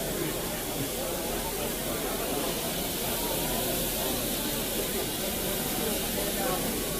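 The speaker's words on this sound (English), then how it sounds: "the sound of this steam engine" Steady, loud broadband hiss from a steam locomotive on England's first timetabled steam service since 1968, continuous and unbroken throughout with a low rumble underneath.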